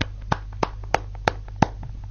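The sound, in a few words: audience applause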